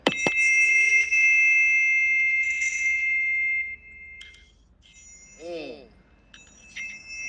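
Two tuning forks ring together with pure tones, steady at first and then fading, followed by quieter scattered metallic pings and a brief warbling chirp.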